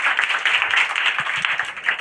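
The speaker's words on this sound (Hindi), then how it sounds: "पप्पू सर, ताली मार दीजिए इनके लिए।" An audience at a district board-exam toppers' award ceremony claps for a guest, a dense, steady applause filling the hall close and loud throughout.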